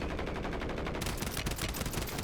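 Rapid automatic gunfire in Call of Duty: Warzone sounds as a dense, loud burst of shots fired in quick succession with no break.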